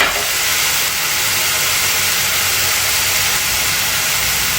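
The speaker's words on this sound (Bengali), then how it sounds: "তেল গরমে আমি পেঁয়াজ দিয়েছি" Onions added to hot oil for a Bangladeshi dried-fish curry sizzle in a loud, dense, steady hiss that lasts throughout with no talking.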